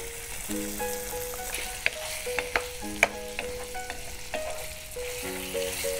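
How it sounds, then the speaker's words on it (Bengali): Chili chicken fries in a pan with onion and capsicum, giving a steady close sizzle with occasional sharp stirring clicks and spatters, under soft background music. "চিকেনটা দিয়ে দিচ্ছি, চিলিটা দিয়ে দিচ্ছি, পুরোটাই দিলাম।"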